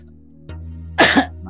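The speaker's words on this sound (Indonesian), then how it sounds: "Maaf, batuk saya." A man, a smoker, gives a single short, harsh cough close to the microphone, a brief burst over a low steady hum in a quiet room.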